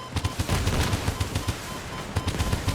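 Rapid, loud repeated firing bursts of missiles launched in a combat video game, a steady rattling volley close up with no speech.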